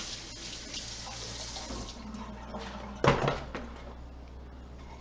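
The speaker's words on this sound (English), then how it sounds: "I need to rinse my fingers." Water runs from a kitchen tap while fingers are rinsed during fried chicken prep. The flow is a steady close hiss, with a louder splashing burst about three seconds in.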